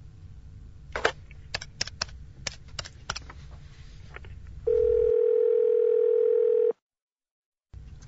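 A mobile phone used to place a call gives a steady, loud telephone dial tone lasting about two seconds. Soft key taps and clicks come before it, and a brief silence follows the tone.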